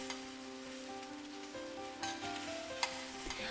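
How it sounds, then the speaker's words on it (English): Dates sauté in a pan with a little boiling water, a steady close sizzle and bubbling hiss running throughout, with a few faint stirring scrapes and clicks on top. "transfer them into a pan with a little bit of boiling water and saute them for a few minutes"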